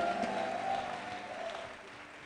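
Church congregation clapping in praise at an anniversary and home-coming convention, a steady blur of many hands held at moderate, fairly distant level, with a sustained voice or tone running beneath.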